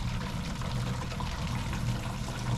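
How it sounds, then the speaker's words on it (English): Tap water pours steadily into a bucket, a continuous, moderately loud splashing rush with a low, full gurgle underneath and no voices. "we're gonna put some water here in this bucket."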